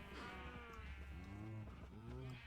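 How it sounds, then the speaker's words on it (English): Cows mooing in the game Minecraft, several drawn-out lowing calls overlapping across the clip at steady moderate loudness, with no voices over them. "I've got my hands on a couple of cows."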